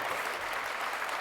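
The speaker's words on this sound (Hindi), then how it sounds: "आप सभी अपने स्थान पर बैठे बैठे हमारे ऐसे विद्यार्थियों के लिए जोरदार तालियां आप सबकी ओर से" Steady, close applause from a seated audience at a university convocation culture programme, a brief continuous burst of clapping with no pauses.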